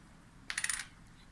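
A US quarter set down on a table rattles with a quick run of bright metallic ringing bounces before settling, close and alone in a quiet room.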